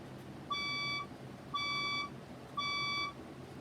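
A red fire alarm sounds three loud, even electronic beeps, each about half a second long with roughly half-second gaps, clear against a quiet background.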